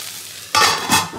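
Kharkol leaves fry in a pan with a loud sizzle that bursts up suddenly partway through. The sizzling swells twice, close and alone.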